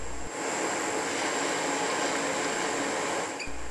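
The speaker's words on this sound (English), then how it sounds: "Lower the spindle and move the edge finder towards the part." A milling machine spindle runs at about 1000 RPM with an edge finder fitted, giving a steady broad whirring drone that holds for several seconds and then cuts off near the end, close and alone.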